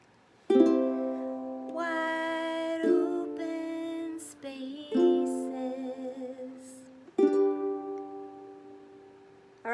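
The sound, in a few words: ukulele chord progression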